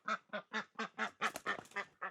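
Farm ducks at bedtime quack in a rapid, steady series of about ten loud, close calls, evenly spaced with no talk over them.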